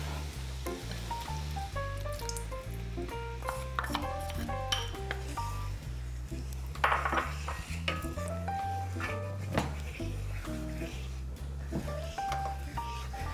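A honey soy mixture is stirred into a pan holding salmon juices, bringing soft scraping and light metallic clinks over steady background music, with no talking.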